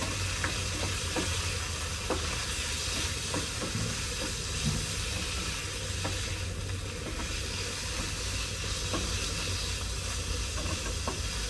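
Chicken fries in a pan during outdoor cooking, a steady close hiss and sizzle with occasional faint clinks of stirring, continuous at moderate volume with no speech.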